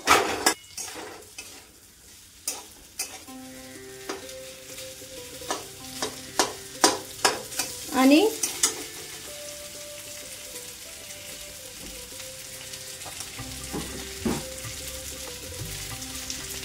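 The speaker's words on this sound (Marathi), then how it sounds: "मिरचीमध्ये असे बटाटे आपल्याला थोडेसे फ्राय करून घ्यायचे आहे। फुल गॅस करायचा आहे इथं।" Potatoes frying with green chillies in a pan over full gas, a steady sizzle broken by a run of sharp spatula scrapes and stirs mid-clip, close and fairly loud, with no talking.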